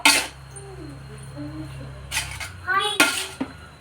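A spoon stirs a dish with ghee in a metal pot in a home kitchen, giving a few sharp clinks and scrapes against the pot between quieter moments, with a brief voice in the background.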